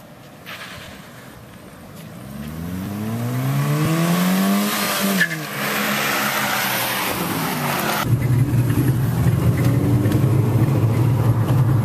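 Toy Sound Racer gadget playing a Shelby GT500 engine: a rising revving whine that climbs in pitch over several seconds, then settles into a loud, steady roar, with no talking.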